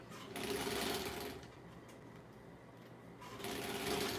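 A sewing machine stitches fabric in two short runs of fast, even mechanical chatter, separated by a quieter pause of about two seconds, close up with no talking.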